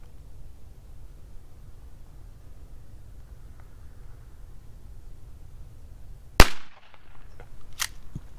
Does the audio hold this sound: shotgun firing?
yes